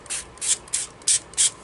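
Rit dye is sprayed onto leather in five short hissing bursts from a spray bottle, each about a quarter second long with brief pauses between, close and fairly quiet with no talking.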